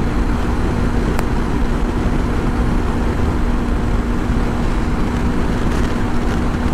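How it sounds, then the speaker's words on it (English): Honda CB500X motorcycle held at full throttle in sixth gear near top speed, loaded with a pillion and luggage, giving a steady, loud drone of engine and wind roar with a faint constant tone, unbroken and alone. "I'm keeping throttle fully open in a sixth gear."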